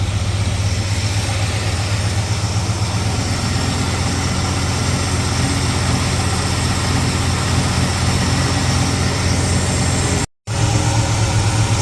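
A car engine idles steadily after a cold start, a continuous close, low mechanical hum with a constant drone that runs without change, briefly cutting out for a moment near the end.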